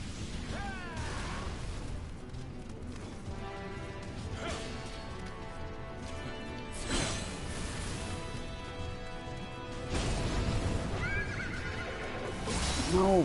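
A horse whinnies several times over clattering hooves and crashes, with a louder neigh near the end, all sounding like game effects from the video game Nioh.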